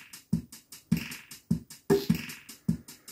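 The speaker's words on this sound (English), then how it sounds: "Here's this little Nano Mini Pops drum machine that was given by a viewer." A small Nano Mini Pops drum machine plays a simple looping pattern through a Tascam 488 mixer, with punchy kick hits alternating with snappier, brighter hits at a moderate tempo and no talk.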